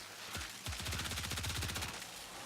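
The Amprex, a video-game weapon, lets off a rapid automatic burst of dense, crackling electric shots that sounds loud and continuous for nearly two seconds.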